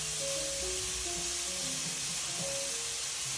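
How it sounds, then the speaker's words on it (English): A steak sizzles loudly in a hot pan right after being flipped, a dense, continuous close frying hiss with no pauses. "I'm going to flip the steak."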